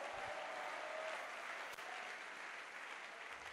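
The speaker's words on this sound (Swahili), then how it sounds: "Piga makofi kwa Bwana Yesu." A church congregation claps together in steady, dense applause that fills the room at an even loudness throughout, with no voices rising above it.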